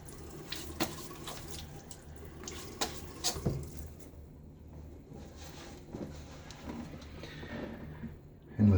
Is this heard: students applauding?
no